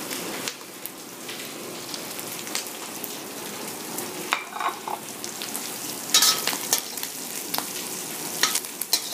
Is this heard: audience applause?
no